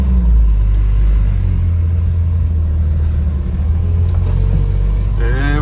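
A Jeep YJ engine runs on a Teraflex hand throttle while the vehicle rolls along, a loud, steady low rumble close by with a brief rise near the end, no talking.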